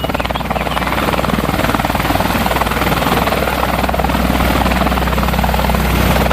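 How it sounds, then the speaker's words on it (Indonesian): Toy helicopter producing a continuous loud buzzing, whirring rotor sound with a fast steady flutter, close and unbroken. "ternyata helikopter"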